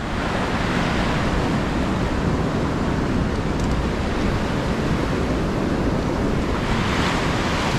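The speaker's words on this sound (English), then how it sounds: "It's crazy windy up there." Strong wind on cliffs roars steadily into the microphone, a dense, unbroken rush of noise that stays loud throughout with no voices.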